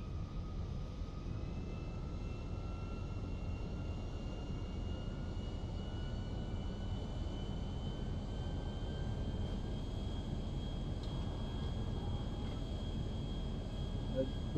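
Jet engine roar from a GTA V aircraft taking off over Los Santos, a steady broadband rumble with a faint whine, continuous at a fairly low level from start to finish, with no clear speech over it.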